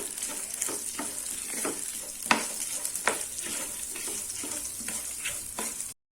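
Small shallot onions sautéing in a pan for garlic rice, a continuous soft sizzle broken by intermittent scraping stirs, with a sharper knock near the middle, fairly quiet.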